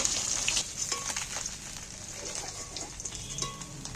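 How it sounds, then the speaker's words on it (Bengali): Pomfret pieces fry in plenty of hot oil in a pan and get turned over, giving a bright, continuous crackling sizzle with scattered pops and soft stirring scrapes, close and moderately loud. "বাকি মাছগুলো আমি নাড়াচাড়া করে উল্টে পাল্টে ভালো করে ভেজে নেব"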